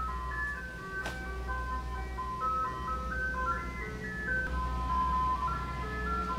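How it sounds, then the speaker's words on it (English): Ice cream truck jingle playing continuously as the van passes a house, a steady tinkling melody over a constant low engine rumble, moderately loud throughout. "If the ice cream truck don't stop passing by this house"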